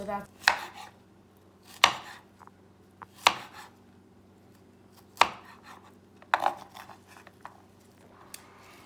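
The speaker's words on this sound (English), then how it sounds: "So I'm chopping my last vegetable." Knife chopping vegetables, spinach among them, for an omelette: about six sharp, separate cuts against a board spaced a second or two apart, close and crisp in an otherwise quiet kitchen.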